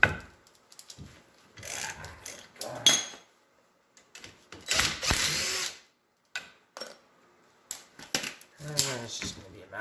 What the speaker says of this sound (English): Jump over to my trusty impact driver. Makes my life easier, speeds things up.